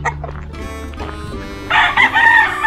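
A rooster crows loudly and close by at Kanwaling Gateway Farm in San Jose, Occidental Mindoro, its strained call rising after a moment of low background rumble and faint clucking.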